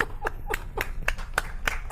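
Sparse, evenly spaced claps from a small audience on a news show set, about seven sharp hits in two seconds, close and moderately loud over a low background hum.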